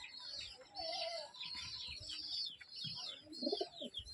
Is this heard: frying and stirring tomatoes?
no